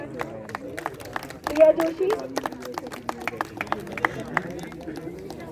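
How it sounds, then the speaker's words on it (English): Scattered claps from an audience at a school sports felicitation ceremony, greeting a second-prize badminton winner, heard as sparse sharp taps beneath an announcer's amplified speech and crowd murmur. "Huge round of applause for"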